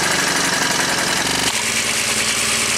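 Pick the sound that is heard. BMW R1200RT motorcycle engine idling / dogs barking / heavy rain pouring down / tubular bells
BMW R1200RT motorcycle engine idling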